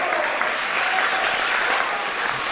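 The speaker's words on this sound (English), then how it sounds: "The crowd firing up." A wrestling crowd applauds and cheers at a women's match, a dense continuous wash of clapping and voices heard from within the audience.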